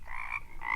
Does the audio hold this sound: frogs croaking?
yes